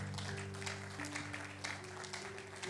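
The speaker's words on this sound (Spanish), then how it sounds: "denle el aplauso al Señor" A church congregation claps together, a soft, steady patter of applause mixed with sustained background tones, fairly faint throughout.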